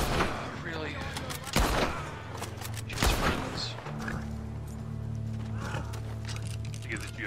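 Two sharp, loud .30-06 rifle shots ring out about a second and a half apart, each a sudden broadband crack with a short echoing tail, followed by a steady mechanical hum and low rumble.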